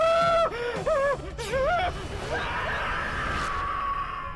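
A person screams in a dramatic Hindi horror scene, a rising and falling wailing cry broken into several bursts, followed by a sustained tonal ring and background noise.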